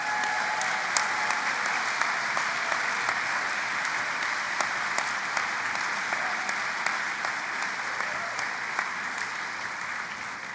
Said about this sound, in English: Maybe the graduates should give them a round of applause.